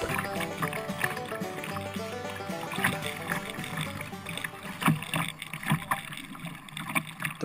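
Kayak paddling at sea in the Severn Sea, heading toward Brean Down, with rhythmic paddle strokes and water splashes over wind noise and steady background sound.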